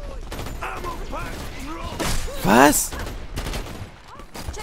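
Gunfire in the Dirty Bomb shooter game: loud, close volleys and bursts, with a voice calling out briefly over the shots.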